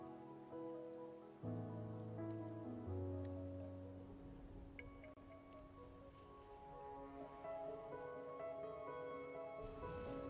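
Steady rain falling in the Wuthering Waves video game, a soft continuous patter running under sustained musical tones, moderately quiet and even, with no speech.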